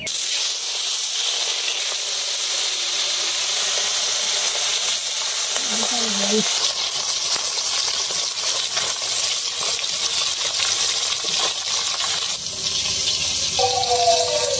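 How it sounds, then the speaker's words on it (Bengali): Fish frying in a hot wok, a steady broadband sizzle that holds fairly loud and unbroken for the whole stretch. "কড়াই গরম হয়েছে, মাছটি দিয়ে আলতেছি।"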